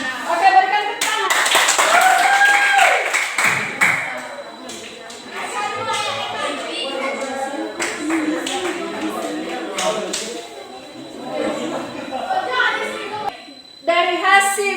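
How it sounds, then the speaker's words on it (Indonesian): A classroom of students clapping their hands, a loud, dense round of claps with scattered children's voices and chatter mixed in, fading to lighter talk and a short final burst. "Oke, berikan tepuk tangan."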